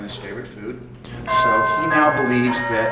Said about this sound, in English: And that was our doorbell, by the way.